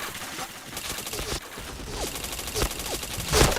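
Video game gunfire rattles in rapid bursts, with dense automatic volleys and single shots in a shooter match, loud and continuous with a louder burst near the end.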